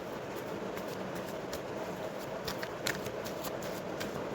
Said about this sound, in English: So I have shuffled your deck